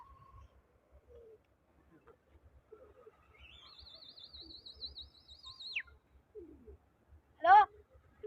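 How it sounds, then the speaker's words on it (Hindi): Pigeons flying during a big-pigeon flying contest: a long, wavering whistle-like tone, then a sharp brief chirp, over soft low fluttering pulses. All fairly faint and distant. "माशाल्लाह कबूतर उड़ रहे हैं ना"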